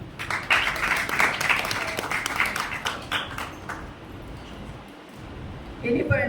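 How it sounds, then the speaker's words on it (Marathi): An audience at a Marathi story reading competition applauds, clearly audible claps that rise to a peak and gradually fade, then voices stir as the noise settles. "जोरदार टाळ्या"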